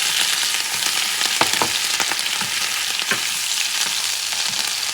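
Squid and oysters fry for seafood ramen, a loud continuous sizzle and crackle with a few stirring clinks partway through, close and with no talking.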